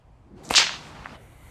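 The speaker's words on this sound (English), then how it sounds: "There's also a little bit more flick with the wrist in this one because you need the whip to stop dead." One sharp whip crack using the snake killer technique, struck toward a target on the ground, lands as a quick loud snap followed by a short fading hiss and a faint second tick.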